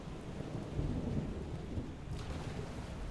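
A thunderstorm rolls in within the game FAR: Changing Tides, a dense wash of rain with a broad rumbling thunder peak early on, sustained and close, no talking.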